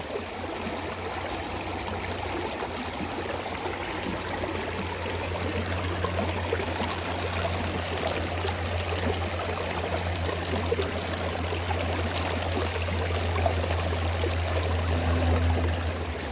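Creek water flows steadily and fills the air with a continuous close rush and trickle as the level rises, with a low rumble underneath and no voices.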